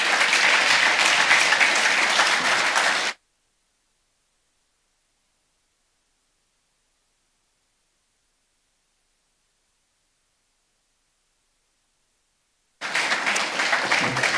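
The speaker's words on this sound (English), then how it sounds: "I think that deserves an even louder and rapturous round of applause." A conference audience at a capital markets day breaks into loud, dense applause that cuts off abruptly into a long stretch of silence, then the clapping returns briefly at full strength.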